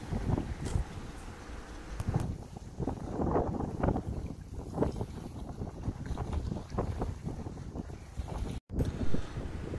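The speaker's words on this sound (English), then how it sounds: "we brought the wind with us" Gusty wind blowing outdoors by the water, roaring and buffeting the microphone in uneven surges, loud and continuous with no talking.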